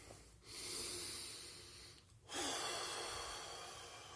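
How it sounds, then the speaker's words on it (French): Two long, deep breaths, each drawn in and released in a broad airy rush, close to the microphone during a relaxation exercise for calming anxiety, with no talking. "je vous invite à prendre une bonne respiration"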